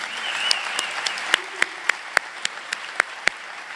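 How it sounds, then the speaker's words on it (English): Audience applause at a hunger-awareness event honoring photographers: steady crowd clapping with several distinct, sharper claps standing out in a regular rhythm near the microphone, no speech over it. "So can I get a round of applause for the photographers?"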